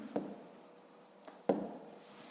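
Pen writing numbers by hand on paper in a fifth-grade maths exercise, two short quiet scratching strokes with a pause between, close and faint.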